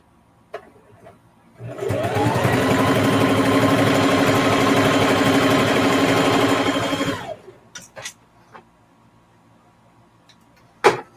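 A sewing machine quilting lines across a zipper pouch starts up and runs in one steady, loud whir for several seconds, then stops, leaving a few scattered clicks and handling sounds close by.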